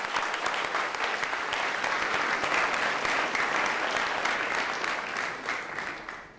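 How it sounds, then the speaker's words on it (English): At a commencement ceremony, an audience applauds the winning team with dense, sustained clapping that fills the room evenly and then tapers off at the end. "Let's give them a round of applause because I know some of them are here."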